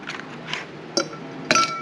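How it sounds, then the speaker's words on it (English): Ice cubes drop into a glass, a few separate bright clinks spaced apart, the last two sharpest and ringing, close and clear with no talking. "a couple of ice cubes, probably enough to fill up half of the glass."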